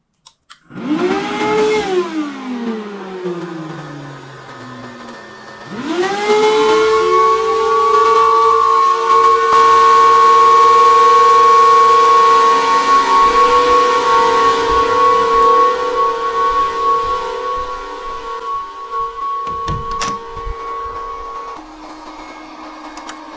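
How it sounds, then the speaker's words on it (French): The cooling fans of a Bitcoin mining machine spin up loudly with a rising whine. The whir drops back, then surges again into a sustained, droning high-pitched roar that holds for many seconds, close by and with no talking. "il faut changer tous les ventilateurs pour des ventilateurs moins bruyants"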